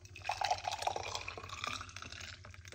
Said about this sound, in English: Now what we're going to do is pour it out into this cup.